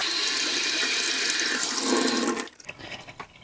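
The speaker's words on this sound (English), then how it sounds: "I'm going to just run some water through here" Water runs steadily through the attachment of a Hoover Power Scrub carpet shampooer, a close hissing gush that cuts off abruptly partway through, leaving faint drips and residual noise.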